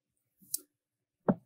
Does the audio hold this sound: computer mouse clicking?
yes